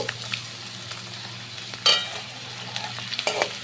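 Chopped onions hit hot oil already seasoned with bay leaf, cardamom and cinnamon, giving a close, steady sizzle with a sharper crackling burst as they go in, then stirring scrapes, all without any talking.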